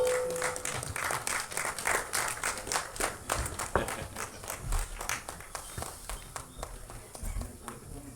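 Applause from an event audience greets a guest coming on stage, uneven clapping with busy crowd noise and voices underneath, moderately loud and rising and falling.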